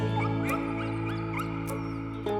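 A dog whimpering and yipping in short high-pitched bursts over a steady hum, fairly close, with several cries across a couple of seconds and no speech.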